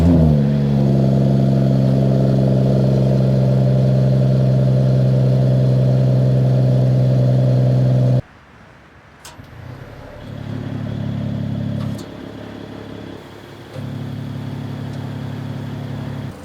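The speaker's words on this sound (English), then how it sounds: "this is inline 6-cylinder turbo engine" A Mercedes-AMG GT 53 four-door coupe with an inline six-cylinder turbo engine idles loud and close, humming steadily before cutting out abruptly, then picking up again at a lower, uneven level.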